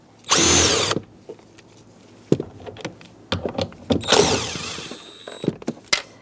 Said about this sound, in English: You're going to use a 10mm socket and undo the 3 bolts.